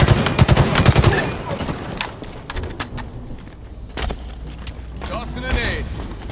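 Gunfire in the multiplayer shooter Halo Infinite: dense bursts of rapid automatic shots crowd the first two seconds, then sparser single cracks and short volleys continue under game announcer callouts and effects.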